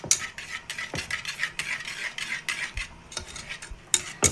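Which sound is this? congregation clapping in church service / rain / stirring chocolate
stirring chocolate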